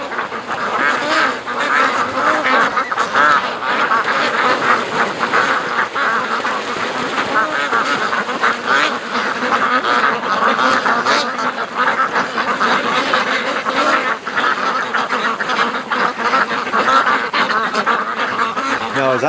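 Domestic ducks at a lake quack loudly and continuously as a close flock, the calls overlapping in a busy, unbroken chorus.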